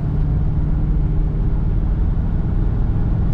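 1977 Oldsmobile Cutlass Supreme Brougham with T-tops accelerating, a loud, steady low engine rumble heard from inside the car without a break.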